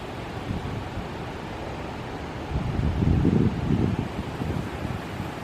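Breezy wind gusting through a white pine forest on an autumn hike, a steady rushing roar that swells louder in the middle and then eases, heard alone with no talking.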